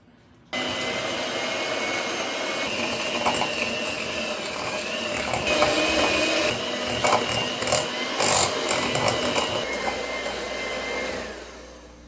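An electric mixer beats butter and brown sugar for chocolate chip cookie dough, giving a steady, close motor whir with rattling bursts that runs for most of the stretch before cutting off near the end.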